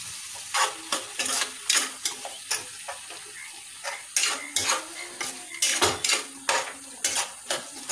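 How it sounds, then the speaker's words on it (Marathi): A spatula clacks and scrapes against a pan as marinated vegetables for veg biryani are tossed over medium heat, in quick rhythmic bursts over a low sizzle, loud and close. "त्या मॅरिनेट केलेल्या भाज्या घालून व्यवस्थित मस्त खमंग परतून घेऊया."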